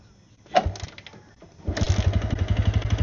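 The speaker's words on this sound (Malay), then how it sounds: "Kita start enjin dulu lah. Kita dengar bunyi enjin lah." A Yamaha LC135 motorcycle engine is kicked over, catches after a thump, and settles into a loud, rhythmic idle close by, with a loose engine block.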